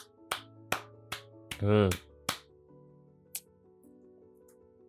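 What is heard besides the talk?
hand clapping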